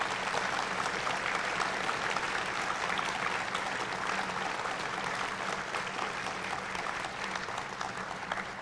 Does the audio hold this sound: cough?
no